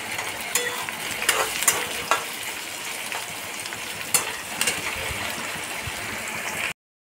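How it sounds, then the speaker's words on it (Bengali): Onion frying in oil in a pan with a little salt and turmeric, a steady close sizzle with occasional stirring scrapes and soft pops, heard alone before cutting off. "পেঁয়াজটা আমার ভাজা হয়ে এসছে"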